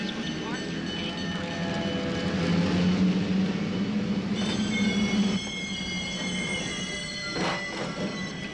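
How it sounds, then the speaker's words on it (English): A passenger train rumbles into a station track with squealing wheels and metallic screeches over a steady heavy roll, while voices are heard over the noise. "Now arriving on track 7, the Amarillo Streamliner of the City of San Diego from Oakland."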